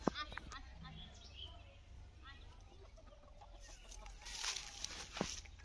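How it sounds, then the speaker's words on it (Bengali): Rooster and hens among rice-field stubble give soft clucks and short calls, with a fuller burst of activity near the end, under quiet talk and outdoor background noise. "এই যে এখানে মোরগ মুরগি"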